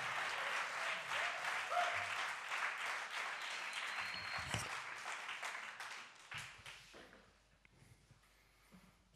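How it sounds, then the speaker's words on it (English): Conference audience applause, a dense, sustained crowd clapping that swells and then gradually fades out toward the end. "Would you get that applause going for Samina Zera?"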